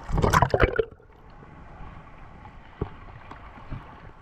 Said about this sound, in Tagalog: medyo magulong at sinalubong tayo ng gulong ng alon